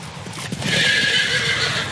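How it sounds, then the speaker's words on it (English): A horse gallops toward a bridge by an old Dutch church, whinnying loudly while its hooves clip-clop in a quick, close rhythm throughout. "Ichabod urged his horse Gunpowder on"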